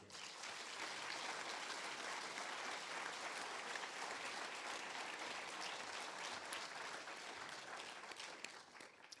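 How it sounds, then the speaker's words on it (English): A crowd's sustained applause rolls on at an even level, dense and continuous, heard from within the audience. "I hope you know that applause is for your 3 tours, too"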